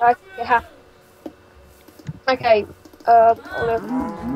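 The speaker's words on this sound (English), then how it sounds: "I'm just killing this cow with quite a lot of lag" Minecraft cows moo in several short, drawn-out lowing calls, loud and close, interleaved with a person speaking briefly.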